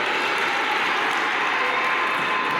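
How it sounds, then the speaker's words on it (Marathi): An audience applauds students at a community program in Shirasgaon, Nashik, with dense, steady clapping that holds at an even level for the whole stretch and no talk over it. "तर आता सर मुलांना टाळ्या वाजवा"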